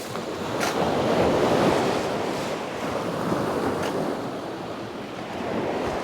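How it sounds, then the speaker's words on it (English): Sea waves wash steadily onto a beach at Dunwich as the tide comes in, a broad continuous surf roar with gentle swells in loudness and some wind buffeting the microphone. "Yeah, the water's rising lovely, coming up the high tide."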